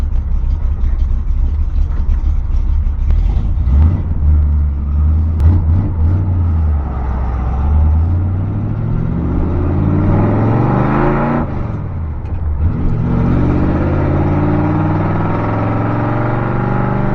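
Chevy C10 pickup with a 454 big-block V8, engine running loud and close with a choppy, lumpy idle that rises and falls through several revs over a steady low rumble, no talk.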